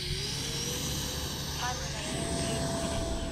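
An X-2100 jet-powered RC glider taking off on a ground roller, its jet engine giving a steady, loud whine with a rising tone. Someone talks over the engine noise.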